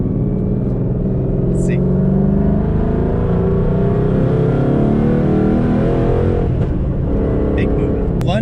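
Ford Mustang GT engine accelerating steadily up a freeway on-ramp, a loud continuous low drone throughout, with someone speaking briefly over it.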